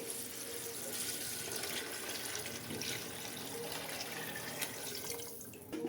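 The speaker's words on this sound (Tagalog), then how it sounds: "Lagyan na rin po natin ng tubig." Water runs in a steady stream, splashing continuously as it fills a pot, with no voices.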